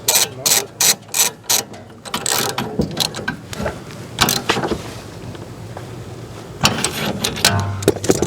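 A ratchet with a shallow socket threads a nut onto a shaft while a stuck Coleman pop-up camper is repaired. Loud, close ratchet bursts come in a quick rhythmic series, then scraping and handling noises follow, and a few more ratchet clicks come at the end.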